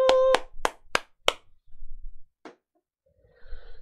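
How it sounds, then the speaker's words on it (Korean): Hands clap about five times in quick, sharp succession close to the microphone during a morning stock-market broadcast, followed by near silence and a few faint, brief sounds. "오늘도 힘차게 박수 치면서 화이팅 하죠"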